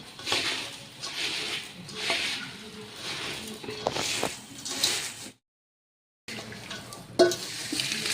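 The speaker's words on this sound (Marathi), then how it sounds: "याला छान आता हाताने असं मिक्स करून घ्यायचं आहे" Raw puffed-rice chivda being tossed by hand with turmeric powder and oil, soft rustling crunches in uneven bursts, close and quiet, cut by a second of silence before the mixing resumes.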